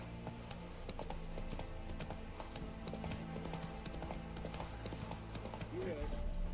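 Roach, a horse in a video game, gallops with a rapid, steady clip-clop of hooves throughout, joined by game sound effects and a voice speaking over it.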